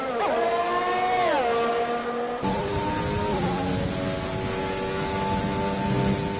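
Formula 1 race cars in a video game at the Belgian Grand Prix roar out of the pits, their engines climbing in pitch together before a sharp cut into a dense, steady, high-revving drone that stays loud throughout.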